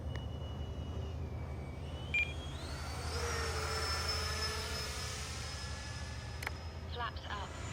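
An FMS Yak 130 V2 70mm electric ducted-fan RC jet makes a slow pass in calm air, its whining fan tone rising and shifting in pitch at moderate distance while someone talks.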